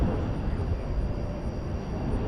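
A Turkish Airlines Airbus A350-900 at Dallas Fort Worth airport at night, a steady broadband jet engine roar, loud and unbroken throughout, with no talking.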